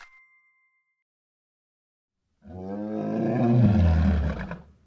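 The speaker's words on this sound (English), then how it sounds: "Yes, it's lion." A lion roars once, a deep rumbling roar that builds and then fades over about two seconds. It follows a brief chime and a stretch of silence.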